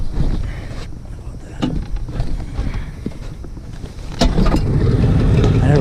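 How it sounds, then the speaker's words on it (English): A boat's outboard motor catches after a few pulls and rumbles into a steady, loud idle close by, with wind buffeting the microphone and water slapping around it. "All right, I'm gonna start the motor."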